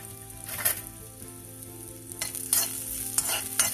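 Cumin seeds, coriander seeds and green chilies sizzle in hot oil in a pan for an upma, a steady fry hiss punctuated by a few sharp stirring scrapes and spatters.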